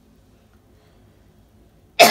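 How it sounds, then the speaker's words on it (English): A single sharp cough bursts out close and loud at the very end, after near silence, from a person undergoing a 15% TCA chemical face peel. "And I think it's making me cough."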